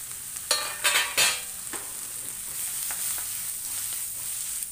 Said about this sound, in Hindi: राई को थोड़ा मस्त क्रैक करेंगे आप देख सकते हो, और डालेंगे ये भिंडी इसमें